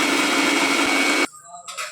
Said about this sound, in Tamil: ஒயிட் யாக்கும் சுகர் பவுடரும் சேர்த்து நல்ல ஃபைன் பேஸ்ட்டாக அரைச்சி எடுத்துக்கலாம்